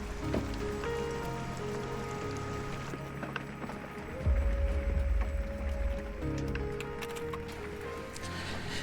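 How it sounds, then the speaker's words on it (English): Rain falling on a truck camper during solo winter camping, a soft patter across the roof with a brief louder rush midway, heard from inside amid faint tonal background sounds. "Sounds like we're getting rain again."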